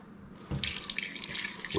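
Running tap water gushes into a cooking pot over chunks of smoked dried beef, a steady splashing stream that starts abruptly and continues close by.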